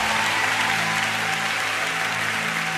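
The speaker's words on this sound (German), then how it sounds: "Können wir Jesus nochmal einen Applaus geben?" Steady, dense applause from a church congregation after a worship song, filling the room evenly and loudly with no pauses and no talk over it.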